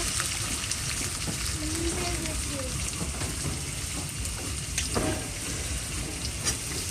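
Steady frying sizzle of carrots in oil fills the clip, a dense hiss with a few brief clinks and scrapes, close by and without talk.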